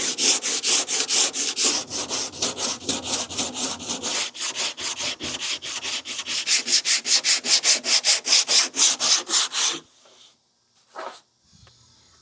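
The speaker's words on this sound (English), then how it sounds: "we're going to jump over to block sanding this." Rhythmic back-and-forth strokes of a sanding block on a Chevy GMT800 fender, loud, close and regular, speeding up toward the end before stopping abruptly, leaving a few faint scrapes and a brief bark.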